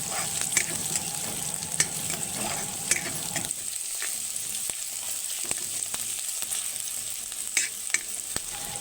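Peas and onions fry in a pan with a soft, continuous hiss and scattered sharp crackles and pops, close by and without talk; a fuller, lower rumble fades out after the first few seconds.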